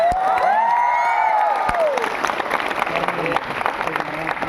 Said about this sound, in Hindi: Huge round of applause, जोरदार तालियां।